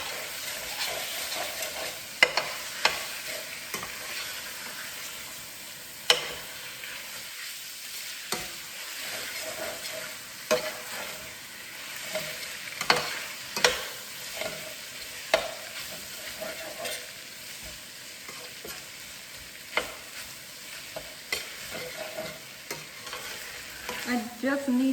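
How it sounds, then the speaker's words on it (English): Meat and carrots stir-fried in a pan as filling for Chinese egg rolls, with a steady soft sizzle and repeated scraping and clicking of a utensil stirring against the pan. "then I'm going to put the meat inside, okay, to stir fry it"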